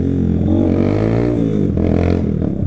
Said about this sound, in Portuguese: Aí ela dá um tipo um estourozinho, mas é do próprio escape.